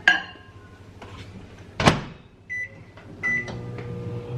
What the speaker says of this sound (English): So I'm gonna put it in the microwave to warm it up,